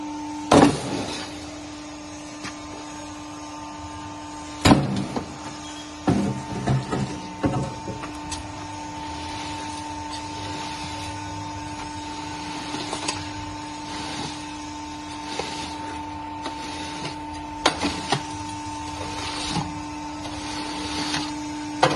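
Hollow block machine running on three-phase power, a steady electric motor hum with a constant tone, punctuated by occasional mechanical clanks and knocks at uneven intervals, moderately loud and without speech.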